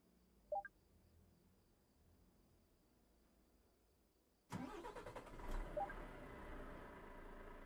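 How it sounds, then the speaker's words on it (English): A truck engine in Euro Truck Simulator 2 cranks and catches suddenly after near-silence, then settles into a steady low idle rumble with a faint click heard earlier. "we will start the engine"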